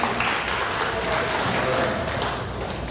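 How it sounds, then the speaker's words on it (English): Applause from a church gathering audience, a dense, sustained burst of many hands clapping that fills the room evenly for a few seconds, with faint voices mixed in. "Another round of applause for the Lord."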